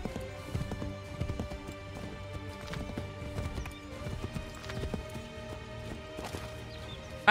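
A horse in Assassin's Creed 3 clip-clops along at a quick, steady rhythm of hoofbeats, fairly soft and close, with a brief whinny and no talk over it.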